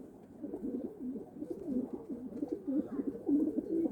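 Domestic pigeons coo continuously around a terrace coop, a close chorus of low, rolling calls overlapping without pause and with no speech.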